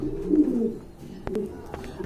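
Pigeons coo softly and close by in a low, throaty burble, joined by a few quick clicks and taps.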